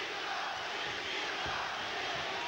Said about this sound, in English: Crowd begins to set up a chant.